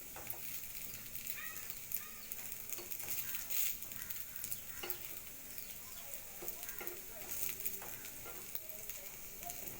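Food fries in a pan over medium heat with a steady, fine sizzle and crackle, faint and continuous, with occasional small pops and stirring knocks, no voices heard.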